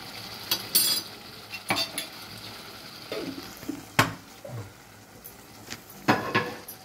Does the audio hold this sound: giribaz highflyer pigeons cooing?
no